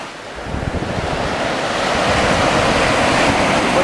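Sea surf washes steadily onto the beach at Side, Turkey, in November, a continuous rushing hiss of waves mixed with wind buffeting the microphone, swelling slightly louder toward the end with no talking.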